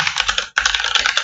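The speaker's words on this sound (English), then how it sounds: "I'm just going to type that one out." Fingers type rapidly on a computer keyboard, dense close clicking in two quick bursts separated by a brief pause, with no voices.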